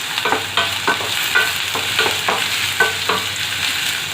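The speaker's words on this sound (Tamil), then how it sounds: "நல்லா வதங்குது." Onion and two green chillies sauté in oil in a pan with a loud, constant sizzle, punctuated by regular scraping strokes of a spatula and no voices.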